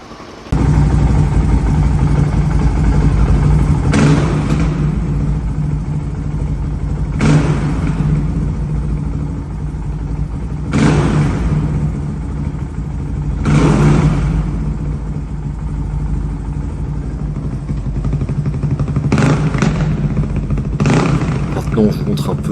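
A restored Suzuki DR 350 motorcycle engine runs steadily nearby with a loud, continuous thumping drone, broken by several sharp throttle blips, with someone talking over it.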